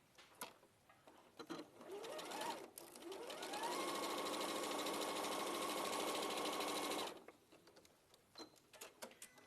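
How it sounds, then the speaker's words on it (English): A sewing machine stitches a quarter-inch seam, with a steady mechanical whir that runs for about four seconds between quieter fabric handling and clicks. "So I'm going to sew that seam."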